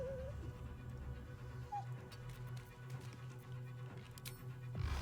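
A small dog, a pup, gives a brief high squeak and a short whimper indoors over steady game-music hum, with the squeaks faint beneath the background.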